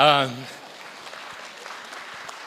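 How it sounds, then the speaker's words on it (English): A voice finishes speaking, then light, scattered applause from a conference audience follows, fairly faint and thin, a smattering of claps that continues at low level to the end. "But that deserves a round of applause."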